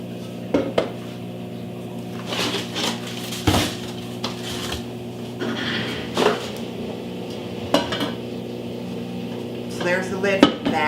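Deep, lightweight Curtis Stone cooking pan being handled, giving scattered metallic clanks and knocks at irregular intervals over a steady hum, with a person talking between the clatters.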